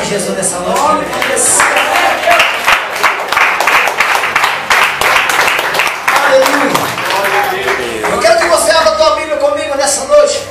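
A church congregation in Brazil bursts into sustained applause during an evening worship service, dense rapid clapping filling the room while voices call out and speak over it throughout.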